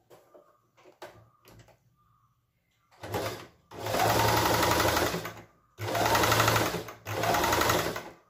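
After a few soft handling clicks, a sewing machine folds and stitches fabric for a hairband in three long, steady whirring runs, loud and close, separated by brief pauses.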